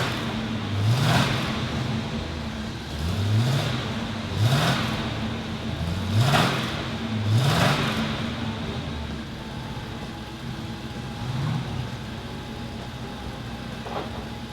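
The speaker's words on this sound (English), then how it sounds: "let me fire it up for you, because you know what, these big 400s still have a great sound to them" A 1979 Pontiac Trans Am's 400 V8, running with the AC on, revs close and loud in five or six rising throttle blips over a steady rumbling idle, then settles back to idle alone.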